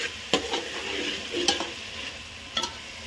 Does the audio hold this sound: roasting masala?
yes